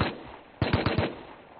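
AK assault rifle fire in a video game: a short burst of four rapid, punchy shots, loud and close, following a brief quieter moment.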